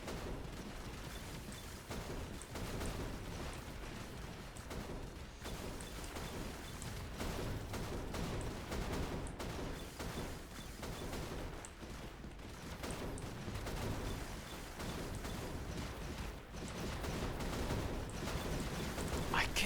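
Dense, continuous barrage of small video game explosions and gunfire-like pops in Midnight Survivors, a bullet-heaven game, quiet and relentless throughout with a voice talking now and then.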